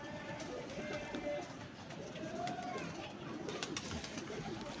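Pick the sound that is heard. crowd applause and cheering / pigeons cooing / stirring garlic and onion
pigeons cooing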